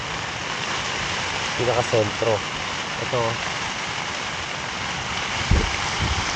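Heavy rain pours steadily on a leaky tent at a campsite, a dense continuous hiss filling the whole stretch, with someone speaking briefly over it and a couple of soft thumps near the end.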